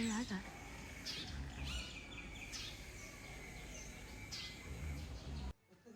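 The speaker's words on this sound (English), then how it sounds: "the sun is already up, and the birds have started their morning search for food" Morning birds call and chirp around a village in rural Vietnam at sunrise; the calls come in several short bursts over a constant background hiss, then the sound drops away abruptly near the end.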